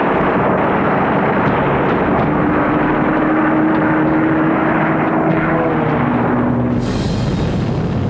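WWII US Army Air Force bomber planes fly on a daylight raid, their propeller engines a loud, dense, unbroken drone, with a sharper burst of noise near the end.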